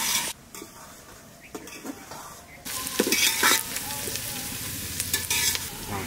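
Onions and mutton frying in a pan while being stirred, a steady sizzle broken by repeated scraping strokes of a spoon, louder and busier in the second half.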